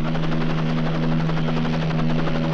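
Helicopter flying overhead in a 1970s Italian crime thriller, a loud, steady rotor drone with a pulsing chop and strong low hum, continuous and close with no voices.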